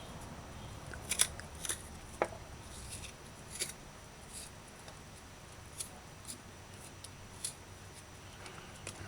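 Ginger being peeled and scraped with a knife, faint close scratchy strokes in irregular bursts against a quiet background.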